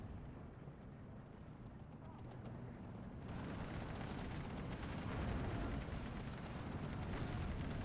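Artillery barrage in the video game Steel Division 2: a dense, continuous rumble of shellfire and explosions that swells noticeably louder partway through and stays heavy to the end.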